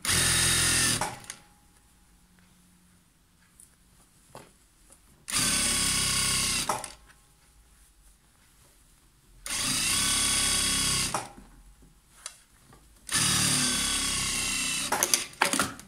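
Sewing machine stitching elastic onto the waistband of a skirt in four loud, steady motor bursts of a couple of seconds each, separated by quieter pauses with faint handling noises.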